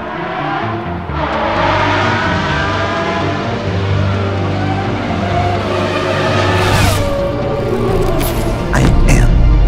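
A car driving with a loud, steady engine drone and shifting revs, a tire skid rising near the end, with a voice talking over the engine.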